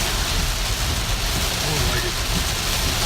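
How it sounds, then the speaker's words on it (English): Steady rain falling on and around a Tesla car, a dense constant hiss and patter that stays even and fairly loud throughout with no break. "as you can see, this is the rain that we're getting today"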